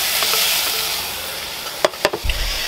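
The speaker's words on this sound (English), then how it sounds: "But Cumberland's got a little bit of flavour in it, you know. That's what you're after, but trying to break the sausages down a bit." Cumberland sausages sizzle steadily in a frying pan as they are broken up, with a few sharp scraping and stirring knocks near the end over the constant hiss.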